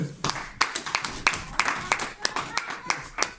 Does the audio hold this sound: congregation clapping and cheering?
yes